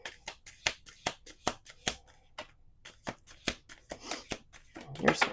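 Oracle cards being shuffled and pulled from a double-sided deck, with a rapid series of crisp flicks and slaps close by and a rustling shuffle toward the end.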